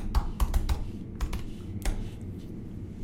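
Keystrokes on a computer keyboard while a sudo password is entered on a Mac, a handful of quick, close taps in short bursts with pauses between, alone over a quiet room hum.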